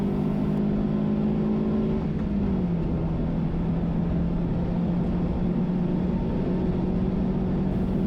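A Toyota Vitz on a time attack lap at Manfeild circuit: steady, loud engine drone with a pitch that holds high, drops as it shifts or lifts near two seconds, then carries on evenly throughout.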